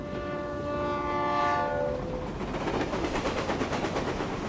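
A passing train in the game Reverse: 1999 sounds a sustained multi-tone horn over a steady rumbling roll of wheels, loud and continuous, the horn fading after about two seconds while the rattling clatter carries on.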